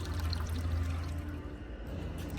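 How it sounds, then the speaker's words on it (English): A garden hose fills a HotSpring HotSpot salt-water hot tub, making a quiet, steady rush of pouring water for a couple of seconds. "Go ahead and turn on your garden hose and you should start to see the hot tub fill up"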